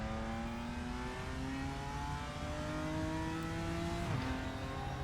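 A BMW M4 GT4 race car in a racing simulator revs hard as engine pitch climbs steadily, then a crisp upshift cuts the note sharply near the end, loud and continuous throughout.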